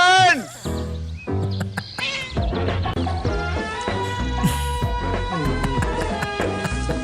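A cat meows and caterwauls loudly and repeatedly amid a busy, cluttered scene, with someone shouting and talking over it throughout.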